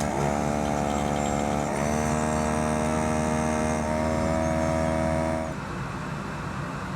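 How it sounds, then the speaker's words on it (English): A desoldering iron hums steadily while pulling old solder from lugs and a circuit board. The electric tone holds and steps slightly in pitch, then cuts off near the end, leaving a softer background. "I'm going to use my desoldering iron to remove the old solder from both these lugs and the board"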